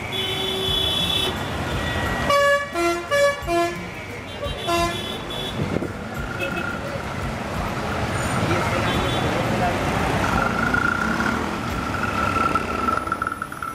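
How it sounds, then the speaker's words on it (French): Dense, noisy street traffic in Kandy, Sri Lanka, with a loud, repeated burst of horn toots early on and more scattered honks over a constant engine roar close by. "nous retrouvons une circulation dense et bruyante"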